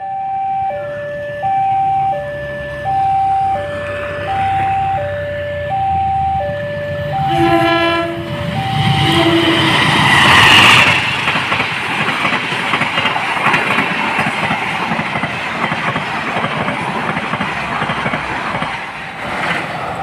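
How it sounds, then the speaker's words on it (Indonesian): The Fajar Utama Solo passenger train sounds a loud two-tone horn in repeated blasts, then roars close past Tanjung station without stopping, its rumble continuing loud and steady as it goes by. "Nah, itu dia kereta api Fajar Utama Solo sudah melintas stasiun Tanjung."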